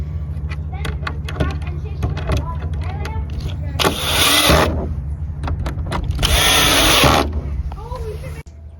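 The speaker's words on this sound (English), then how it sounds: "They're going to come with the drill and screw all at once." Two bursts of a power drill whirring as it drives screws into a cedar swing set, each lasting under a second or so, over a steady low engine-like hum with scattered clicks and handling noises.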